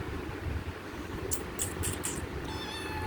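A kitten gives several faint, high-pitched meows, with a short series of squeaky calls and then a thinner drawn-out mew, set against a steady low background hum indoors.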